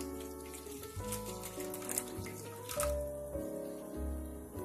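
Water poured into the bottom section of a microwave idli maker, about one to one and a half cups, a steady close splashing and trickling that runs for several seconds with no talk.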